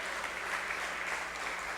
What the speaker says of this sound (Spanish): ¿Cuántos le pueden dar un aplauso al Señor por eso?